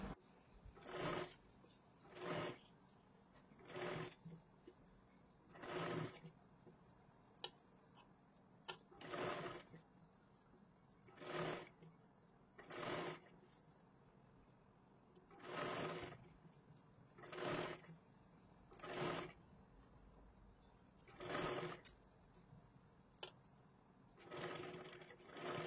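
Sewing machine running in repeated short stitching bursts, about a dozen evenly spaced runs with brief pauses, as piping is stitched onto a blouse back neck; no talking.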